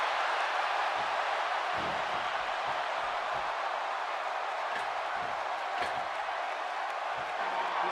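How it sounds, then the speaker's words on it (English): Steady roaring arena crowd cheering for Stone Cold Steve Austin during a steel cage match against Mr. McMahon in the WWE 2K16 wrestling video game, a dense continuous wash of noise with scattered thuds beneath. "This crowd going crazy for Stone Cold Steve Austin"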